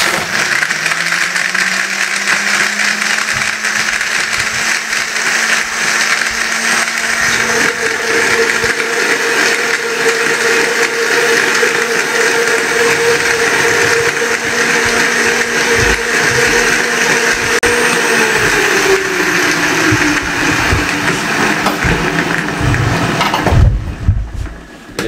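A blender grinds tamarind, dried plums and apricots for sharbat, a loud close whirring roar whose pitch shifts as the contents churn and rattle, then stops abruptly at the end.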